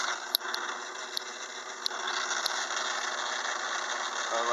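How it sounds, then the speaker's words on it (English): A metal lathe cutting a gear on a short arbor supported by the tailstock runs with a steady mechanical whir and hum. Faint sharp clicks and ticks rise above it. "And we'll start the lathe up."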